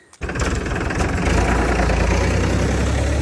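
A tractor engine in a rice field catches after a brief start and settles into a loud, close, steady rumbling run.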